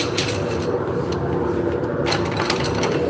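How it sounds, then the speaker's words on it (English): A wood lathe turns the shaft of a wooden drop spindle for spinning yarn, a loud continuous mechanical whir with rattling, ratchet-like clicks and scraping, steady throughout with no talk. "We are turning the shaft spindles."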